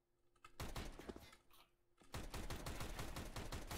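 Rapid automatic gunfire in the shooter CS GO, two close bursts of crisp repeated shots separated by a brief pause with a whooshing effect, loud and steady with no talking.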